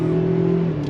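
A 2019 Ford Ranger engine fitted with a Banks Pedal Monster throttle controller revs briefly with a steady, loud, close hum.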